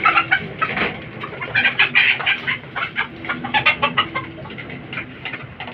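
Dom hatch gamecock stags and roosters clucking and calling in a fighting-cock farm setting, a busy overlapping flock of short clucks and chatter, close and fairly loud throughout with no talk.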